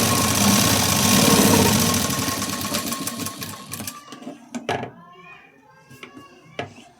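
A sewing machine stitches a second seam on a size-40 katori blouse, running steadily and loud for about four seconds before giving way to a few short clicks and handling sounds.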